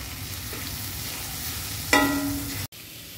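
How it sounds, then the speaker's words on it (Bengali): Shrimp frying in a pan with chopped onion, garlic, green and dried chilli and nigella seeds, a steady close sizzle that jumps louder for a moment as something is added, then cuts off briefly before resuming. "পেঁয়াজ কুচি, রসুন কুচি, কাঁচা লঙ্কা, কালো জিরে, শুকনো লঙ্কা আর চিংড়ি মাছ একটু ভাজা ভাজা হলো"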